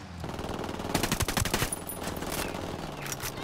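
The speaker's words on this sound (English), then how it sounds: "they're shooting at you guys" Automatic gunfire from a co-op firefight in Ghost Recon Wildlands rattles in rapid bursts, loudest in the middle, with more distant shots trailing off afterward.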